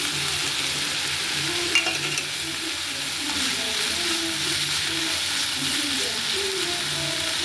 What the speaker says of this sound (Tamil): வெங்காயம் போட்டு இப்போ வதக்க போகிறோம்.